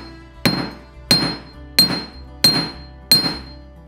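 A hammer strikes a silver cuff bracelet on a metal block while it is forged, giving five sharp, ringing metallic blows at an even, steady pace, close and loud.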